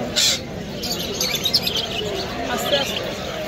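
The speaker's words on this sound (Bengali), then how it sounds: "দেখি ছোট পাখি" Small caged birds at a busy bird market, a few high chirps and tweets close by over a steady murmur of crowd noise and nearby voices.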